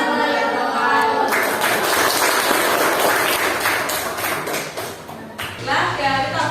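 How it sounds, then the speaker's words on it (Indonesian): Classroom applause for students who presented for their groups, a dense burst of many hands clapping for several seconds, with voices around it before and after. "kita beri tepuk tangan untuk teman-teman kita yang sudah mewakili kelompoknya untuk presentasi"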